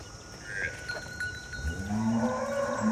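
A large water buffalo on a dairy farm lets out a low, drawn-out moo that swells in the second half, with faint background clinks and a distant tone beforehand.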